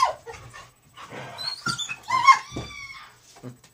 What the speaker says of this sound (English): My dog's want to play.